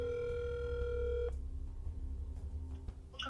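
A telephone call to a motel number rings out through a handset, a steady electronic ring tone lasting over a second before cutting off into quieter line noise and faint background hum.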